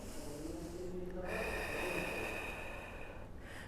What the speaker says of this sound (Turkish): Nefes alıp veriyoruz.